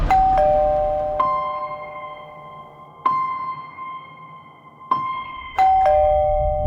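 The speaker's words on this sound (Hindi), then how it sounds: "जिसने उस रात जयदेव प्रांजपे के घर की घंटी बजाई थी।" An electronic doorbell chimes repeatedly, two-tone ding-dong notes ringing out and decaying, several presses in a row, clear and close.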